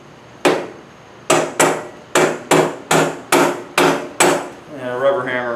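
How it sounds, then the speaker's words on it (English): A rubber mallet taps exhaust J-tubes onto new headers for a merged exhaust on a 2110, eight sharp, close knocks in an uneven rhythm, each ringing briefly, followed by a fading hum. "And a rubber hammer is definitely necessary."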